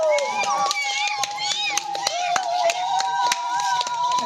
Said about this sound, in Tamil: பொங்கல் பொங்கிய போது குலவையிட்டும் கைத்தட்டியும் சிறுவர்கள் மகிழ்ச்சி அடைந்தனர்.